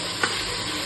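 Mutton with salt and turmeric for sambar gets stirred in a pot, a close, steady scraping mix with a faint sizzle and a couple of light clinks.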